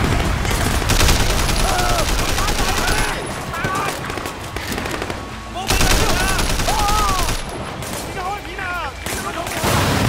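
Bursts of gunfire ring out in a Sleeping Dogs street shootout, loud shots rattling in clusters against busy game noise and music, with a player talking over them.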